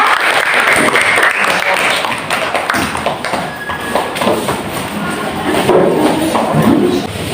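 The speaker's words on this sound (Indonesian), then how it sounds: "Beri tepuk tangan dulu buat kelompok Kartini ya." Students in an Indonesian classroom applaud a student group after its presentation, dense, loud clapping close by with scattered thumps and a few voices mixed in.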